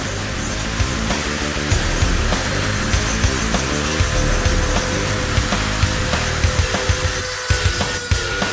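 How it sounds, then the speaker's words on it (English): A rotary tool grinds excess plastic from a car bumper cover and contours a bolt hole, giving a loud, continuous buzzing whine with rough scraping pulses throughout, close up and without voices. "Use a rotary tool to remove any excess plastic and to contour the bolt hole."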